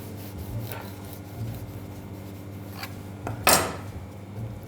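A knife saws through soft hot cross buns on a board, with quiet rasping strokes and one louder scrape, set against a low steady hum.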